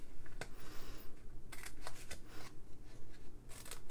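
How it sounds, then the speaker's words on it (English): Scissors cutting two squares out of paper: several short, crisp snips, some in quick pairs and others spaced apart, close and fairly quiet, with no talk. "We're going to cut out these two squares right here."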